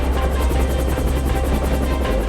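A helicopter airlifting a rhino, slung by its feet through thick forest canopy, drones steadily with loud, continuous rotor chop and engine roar, unbroken and close.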